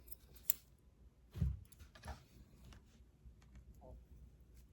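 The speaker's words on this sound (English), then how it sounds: "So now I can cut this where it will overlap slightly." Scissors cut fabric with a few soft, close snips and crisp clicks, faint and spaced apart in a quiet room.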